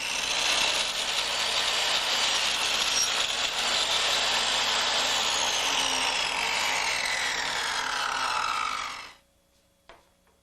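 A miter saw cuts through wood cove molding in one long, loud, steady whine, then stops abruptly, leaving a brief click.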